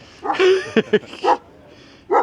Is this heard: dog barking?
yes